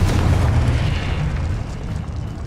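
A Confringo explosive spell blast in Hogwarts Legacy, heard as a loud, deep rumbling boom that swells at once and then rolls on steadily before easing slightly toward the end, with no voices over it.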